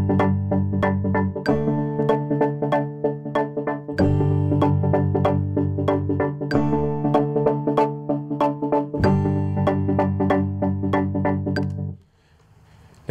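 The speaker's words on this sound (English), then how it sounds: "Now what you're hearing is a swing timing." An AdrenaLinn Sync effects unit runs a filtered sequencer pattern with swung 16th-note steps, producing rhythmic pulsing synth-like chords, loud and alone, before cutting off near the end.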